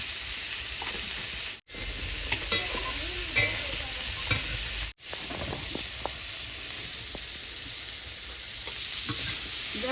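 A loud, steady sizzle of broccoli frying with a little salt, with scattered scrapes of stirring; the sound cuts out briefly twice.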